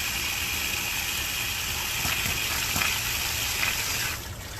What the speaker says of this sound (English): I really don't like that spitting sound that's coming out of there. Yeah. I think that's a water hammer effect.